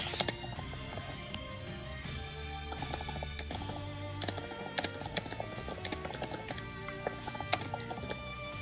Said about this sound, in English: I hear vicious typing.